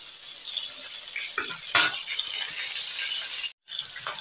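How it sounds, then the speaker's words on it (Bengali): Chili powder and turmeric fry in a pan with a steady, close sizzle, broken by a few louder stirring scrapes and a brief gap near the end. "মরিচের গুঁড়া একটু হলুদ দিয়ে ভেজে দিচ্ছি"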